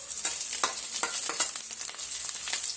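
Steady, close sizzling of sautéing in a pan while making tomato chutney, before the tomatoes go in, with a hissing fry and light stirring clicks and scrapes throughout, no talk.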